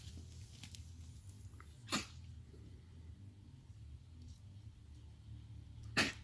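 A dog chokes or coughs somewhere in a garden, two short harsh bursts about four seconds apart, heard at a distance over quiet outdoor background noise.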